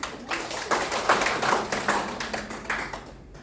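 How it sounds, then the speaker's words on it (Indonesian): Audience at a teachers' seminar breaks into applause, a dense patter of clapping hands rising and falling in uneven bursts for a few seconds before tapering off, close and fairly loud with no voices over it. "Tepuk tangan untuk kita semua."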